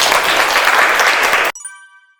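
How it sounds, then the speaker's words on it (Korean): A lecture audience at a university graduate talk claps in a dense, loud burst that stops abruptly, followed by a short ringing chime that fades away. "박수 부탁합니다"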